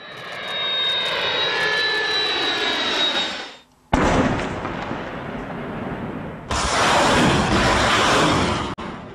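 Turkish military jets roar loudly in a combat operation in Afrin, a sustained rushing engine blast with a falling whine that cuts between passes, near and dominant with no talk.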